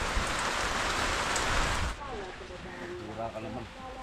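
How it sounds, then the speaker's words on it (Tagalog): Rain falls during an ampalaya harvest as a dense, close hiss for about two seconds, then drops to a softer patter beneath people talking. "Ayun, umulan na."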